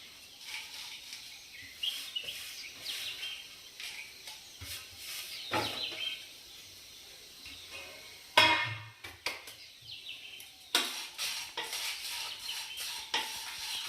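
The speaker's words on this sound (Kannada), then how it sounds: "ಇದನ್ನು 1 ನಿಮಿಷ ಫ್ರೈ ಮಾಡ್ಕೋಬೇಕು." Grated coconut frying in a pan with byadgi chillies, hot chillies and curry leaves, intermittent scraping stirs and clinks of a utensil against the pan over a soft sizzle, with faint birdsong in the background.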